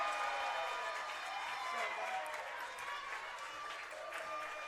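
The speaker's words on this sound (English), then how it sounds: "As the crowd roars for that one." A college softball crowd cheers and claps after a run scores, faint and distant, a thin steady wash of applause and voices lasting several seconds.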